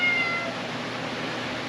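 A cat meows briefly and faintly at the start beside a saltwater aquarium setup, over a steady hiss of equipment noise that fills the rest of the moment.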